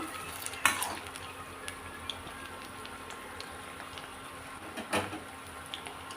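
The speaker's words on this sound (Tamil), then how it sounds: "இந்த சலசலப்பெல்லாம் அடங்கினா தான் நல்லா மொறு மொறுன்னு வரும் காலிஃப்ளவரு" Cauliflower pieces deep-fry in oil over low heat with a soft, steady sizzle. A couple of light metallic clinks stand out now and then.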